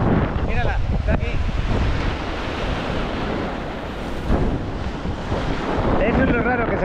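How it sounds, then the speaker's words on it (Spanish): Rough, heavy surf breaks continuously on a beach at Playa Mamitas in Playa del Carmen on a rainy day, with strong wind buffeting the microphone throughout and some faint voices in the background. "fijaros lo bravo que está el mar"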